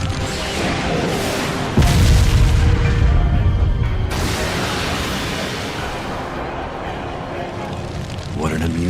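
A roaring fire-style majestic hurricane attack in an anime fight lands as a sudden heavy boom, then a sustained rumbling blaze that fades gradually, loud and dense, with voices and dramatic effects around it.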